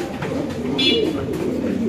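A male white Mundian pigeon coos close by, a low, throaty rolling call that carries on steadily.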